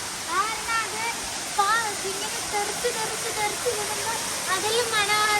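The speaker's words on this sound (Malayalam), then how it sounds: "ആ ഹോൾസിൽ കൂടെ ഒക്കെ വെള്ളം നിറഞ്ഞിങ്ങനെ ഒഴുകുകയാണ്" Water rushes steadily over rocks and through natural rock holes at Wei Sawdong waterfall, a constant broad roar heard up close, with a voice speaking intermittently over it.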